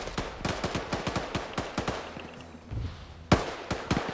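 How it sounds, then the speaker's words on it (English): Faint gunfire in a Russian Spetsnaz operations shooter game: a rapid string of sharp shots, then a short lull with a low rumble, followed by a louder crack and a few more scattered shots. "Roger, opening fire."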